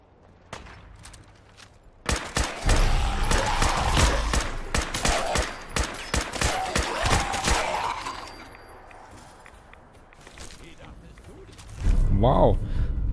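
Bursts of gunfire from a super mutant in Fallout 4 crackle rapidly for about six seconds, with dense overlapping shots. Quieter game sounds follow, and a voice talks at times.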